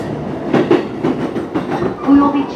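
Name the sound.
JR Keiyo Line local train running on tracks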